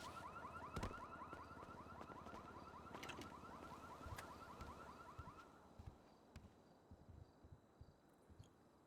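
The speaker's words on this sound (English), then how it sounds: "A fucking car alarm." A car alarm in GTA V roleplay blares a fast repeating electronic chirp pattern for about five seconds before cutting off, fairly distant and quiet, followed by scattered faint footsteps and thumps.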